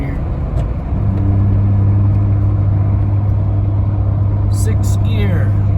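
Jeep Gladiator with 5.13 gears cruising in sixth gear at about 2,000 RPM, a steady low engine drone and road rumble filling the cabin, constant and loud, with someone talking over it.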